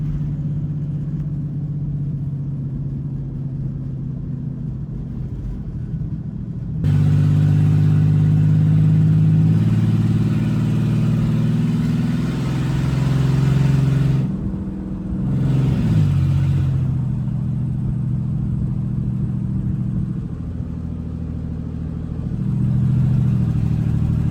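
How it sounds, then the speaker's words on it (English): A 2008 Chevy Express van's engine hums low while driving, then jumps to a louder, sustained revving drone that rises and falls over the remaining stretch, with no talking. "I also don't want it to stall, so I'm gonna keep the revs a little high."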